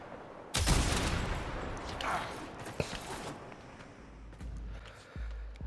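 Gunfire from the Warframe video game, with a sharp shot at the start followed by a few scattered shots and thuds at low level.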